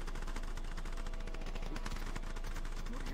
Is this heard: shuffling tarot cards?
no